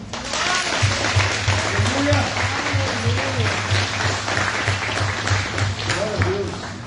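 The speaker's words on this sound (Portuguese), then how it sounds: "Se você pode aplaudir o Senhor." Church congregation applauding during a sermon, a steady mass of clapping lasting several seconds, with voices and a low electrical hum running beneath it.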